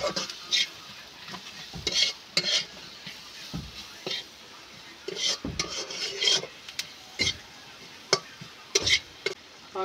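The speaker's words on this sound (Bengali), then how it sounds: "এবার পেঁয়াজটা কষি নেব" Onions sautéed with salt, turmeric and chilli in a pan give a low sizzle under bursts of stirring and spatula scraping against the metal, irregular and close.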